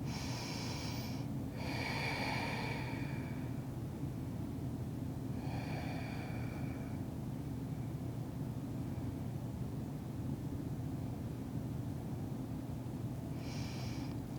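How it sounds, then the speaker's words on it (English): Slow, deep yoga breaths are drawn in and let out through the nose, a few long airy rounds with pauses between them, heard close over a steady low background hum. "We'll take about 5 more rounds of breath here."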